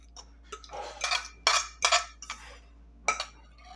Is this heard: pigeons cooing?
no